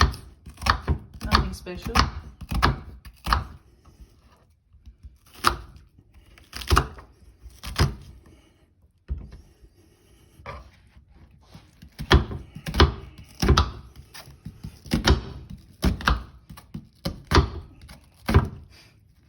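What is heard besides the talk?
chopping giblets with a knife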